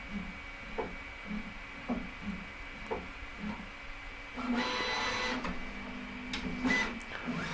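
Snapmaker U1 3D printer homing its tool head: a steady motor whine with rhythmic stepping pulses, then a louder whirring burst of movement partway through, close and alone.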